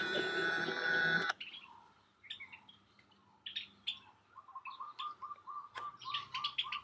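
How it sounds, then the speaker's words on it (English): Several small birds chirp and tweet around a backyard bird feeder, their short bright calls repeating in quick uneven bursts at moderate distance, following a brief loud noisy burst at the start. "I'm showing you these birds that visit my bird feeder."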